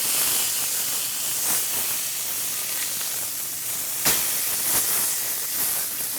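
Grouper fillets searing in a hot pan give a steady, loud sizzling hiss with brief crackling flare-ups, heard alone without talk.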